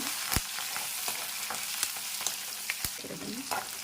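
A paste of herbs including coriander leaves fries in a pan with a steady crackling sizzle, punctuated by several sharp spatula clicks against the metal.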